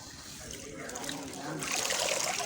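Water runs and trickles steadily as soil is rinsed off roots dug from a freshly dredged canal, growing louder and more splashy toward the end, with a voice speaking over it.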